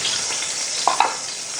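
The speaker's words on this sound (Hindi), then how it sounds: "अब इसी ऑयल में हमने प्याज जो है वो डाल देना है" Chopped onions frying in hot oil for a vegetable biryani, a steady close crackling sizzle with two brief louder pops near the end, no voices.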